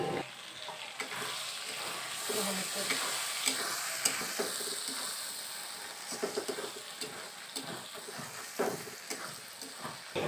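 Chicken pieces fry with turmeric and khichuri spices in a pan, giving a constant close sizzle and hiss broken by repeated scraping stir strokes, no talking.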